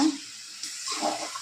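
Water pours into a pan of chicken gravy, a steady close hiss and splash that swells slightly partway through, with no talking.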